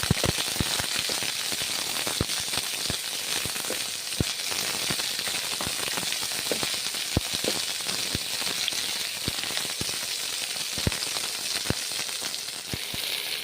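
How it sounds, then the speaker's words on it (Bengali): Cauliflower fries in a pan with a steady hiss of oil, broken by constant small pops and crackles, close and even throughout, with no voices. "এইভাবে ভেজে নিচ্ছি"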